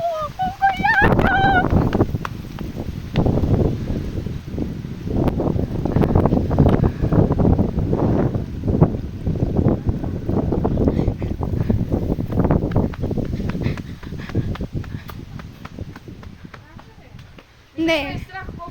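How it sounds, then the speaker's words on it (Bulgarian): Strong outdoor wind roars and buffets the microphone continuously, loud and close, while people talk over it throughout. "То това е вятър. Не е дъжд."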